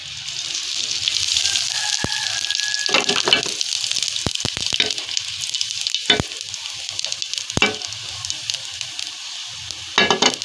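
Cumin seeds hit hot oil in a pan for smoky mash and chana dal, giving a loud, steady close sizzle with occasional sharp clicks and a stirring scrape.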